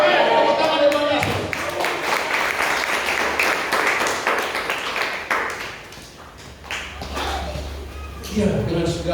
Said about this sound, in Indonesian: Tepuk tangan depan Yesus.